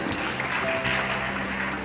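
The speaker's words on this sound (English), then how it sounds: "Give her a round of applause." A short burst of audience applause at an advocacy event for teenage girls, a steady wash of many hands clapping together for under two seconds, fairly loud and without speech.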